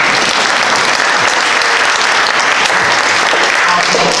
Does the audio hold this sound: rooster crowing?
no